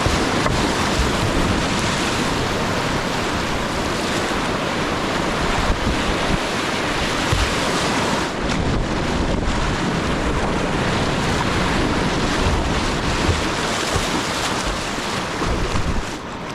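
Whitewater rapids on the Upper Russell Fork roar loud and continuous around a paddler floating downriver, a dense unbroken rush of churning water with wind buffeting the microphone.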